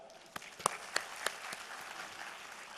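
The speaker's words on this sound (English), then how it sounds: "you can clap for yourself as well" Audience clapping at a live ethnopharmacology seminar, a soft, diffuse patter of many hands with a few sharper, closer claps standing out, steady and moderately distant.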